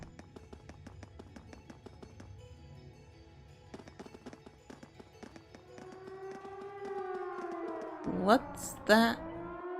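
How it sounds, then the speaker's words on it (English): Wailing siren rising and holding from a fort in Trails of Cold Steel, coming in about halfway through over soft tapping footsteps and ambient game music, with a voice speaking near the end. "It sounds like a siren."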